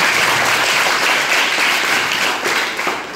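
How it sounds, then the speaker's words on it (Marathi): Loud, close applause from a crowd of former students at a 2015-16 batch alumni reunion honoring their teacher, dense clapping sustained before tapering slightly near the end. "नायकर सरांसाठी जोरदार टाळ्या झाला पाहिजे"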